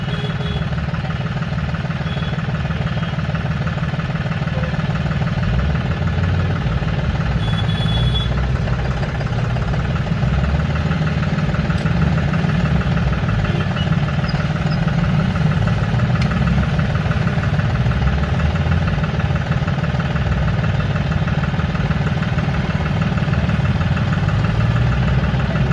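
Bus and car engines idle in congested street traffic, a continuous low rumbling drone with steady vibration, loud and close, with faint higher tones and no voices over it.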